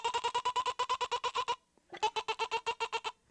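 A person mimics a sheep's bleat with a voice, producing two runs of rapid, evenly pulsed nasal bleats separated by a short pause, close and clear.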